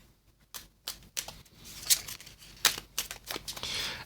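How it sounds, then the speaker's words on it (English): Cards from a Marvel Comic Hunters game deck being shuffled on a table, giving a series of close, crisp riffling snaps and soft slides in irregular bursts, with no voices. "So we're going to pick these up and give these a shuffle."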